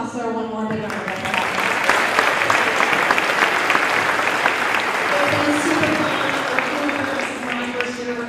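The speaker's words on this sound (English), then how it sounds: "one more big round of applause" A concert audience at a school spring concert applauds loudly and continuously, many hands clapping in a thick wash, with a voice speaking over the clapping partway through.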